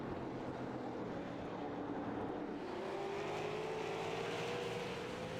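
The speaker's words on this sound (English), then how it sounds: "12 machine going to roll back into the throttle after an issue coming off of turn number 2." A stock race car accelerates back onto the throttle coming off turn two, its engine note climbing steadily over the fairly faint, distant roar of oval-track racing, with no talking.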